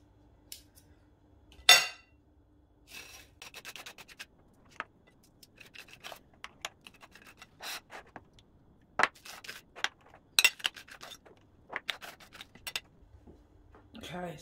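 A knife scrapes and clinks as butter is spread on toast, in short scratchy strokes with taps between them. A person talks intermittently over the sounds.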